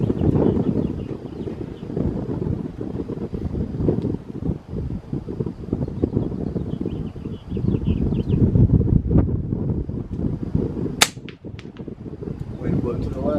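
Gusty wind at an outdoor shooting range buffets the microphone with a loud, steady low roar, broken briefly by one sharp crack near the end.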